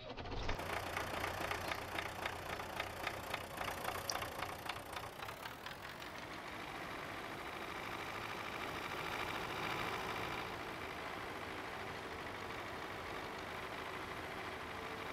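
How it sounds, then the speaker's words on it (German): An MTZ tractor engine idles in Farming Simulator 19, a steady low rumble with a fast knocking pulse that smooths into an even drone partway through, alone and without speech. "Lauschen wir mal auf den Motorsound."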